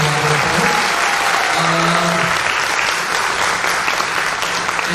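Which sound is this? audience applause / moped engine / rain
audience applause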